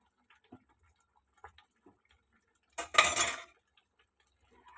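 A short burst of a metal spoon scraping and clanking against a pot of mung dal cooked with fish head, ghee and garam masala, after a few faint light taps, close up in a quiet kitchen.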